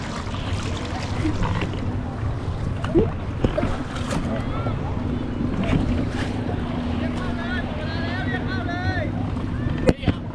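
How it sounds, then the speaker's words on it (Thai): A jet ski engine hums steadily while riding on the sea off Koh Larn, with wind buffeting the microphone and water splashing around it, as people talk and call out excitedly over the noise. "เราก็ต่อคิวเล่นเจ็ตสกีนะคะ นี่ก็เป็นการเล่นเจ็ตสกีครั้งแรก"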